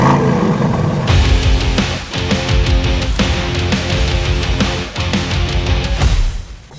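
An Aston Martin DBX707 SUV with a 4.0 V8 accelerates hard and close by, its engine note climbing loudly through several gear changes, each marked by a brief dip before it pulls again.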